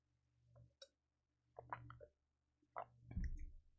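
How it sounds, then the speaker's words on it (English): Close, quiet swallowing and sipping of water into a sensitive microphone: a few wet gulps and mouth clicks separated by short silences, ending in a louder throaty swallow. "I'm sorry for water drinking sounds"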